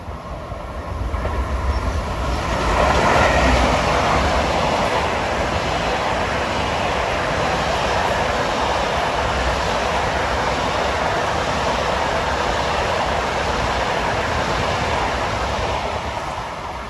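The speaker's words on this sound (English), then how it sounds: "Trains are moving pretty good through here that don't stop" A commuter train on the Long Island Rail Road runs through Forest Hills station in Queens without stopping, at rush hour. Its broad, steady rumble builds over the first few seconds, then holds loud and even for the rest of the pass, with no voices.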